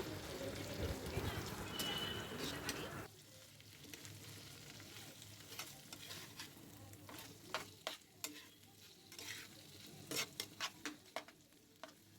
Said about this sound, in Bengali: এখন কচু শাক ভাজি করব